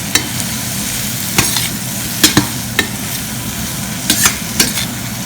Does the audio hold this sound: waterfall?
no